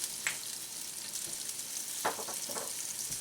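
Rainbow trout fillets fry skin-side down in a pan, giving a continuous close hiss and crackle with a few brief sharper spits and pops.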